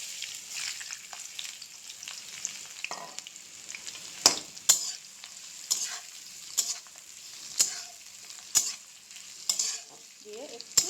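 Garlic and chopped onion frying in oil, a soft steady sizzle punctuated by regular spatula strokes scraping the pan roughly once a second, close and quiet, with no talking.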